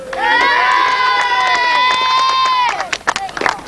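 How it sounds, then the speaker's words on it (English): A crowd at a 1997 grasstrack motorcycle race cheers in one loud, sustained shout for about two and a half seconds, then breaks into scattered short yells. "Cheer a bit louder this time then."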